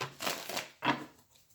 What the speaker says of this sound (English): I've already shuffled this, but I'm going to do one little quick shuffle here.